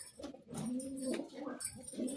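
A pigeon gives low, throaty coos close by while being grabbed in the hands, the soft rolling calls repeating several times over rustling and scuffling.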